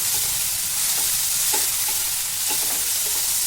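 Chopped tomatoes and cashews roasting in a pan for paneer tikka masala, a steady close sizzle with occasional scrapes and stirring clinks, no voices.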